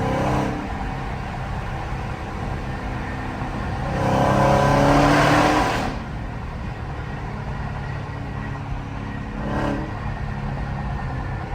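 Dodge Challenger Scat Pack 392 engine rumbling inside a tunnel, with a loud rev swelling around four to six seconds over a steady echoing drone, then a brief blip near the end.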